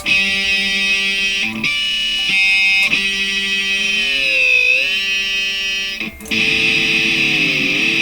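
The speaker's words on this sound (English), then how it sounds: "Dive bomb type number 3, dual harmonic dive" Ringing electric guitar harmonics dive and swoop down in pitch with a whammy bar, repeated a few times, loud and sustained with a buzzy edge.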